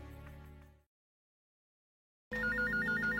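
A police station telephone bell rings loudly in a steady repeating trill, breaking off into a short silence before starting up again.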